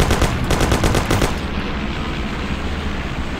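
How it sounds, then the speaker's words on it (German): Rapid automatic gunfire in a shootout in the Mafia video game, loud bursts of steady repeating shots for about a second, then a dense rumbling din of continued fire and noise. "Sam, schieß, Bastarde! Leg sie um, Sam!"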